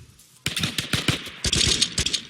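Rapid automatic gunfire in a battle royale video game erupts in loud, dense bursts of cracking shots, close and continuous after a brief quiet start.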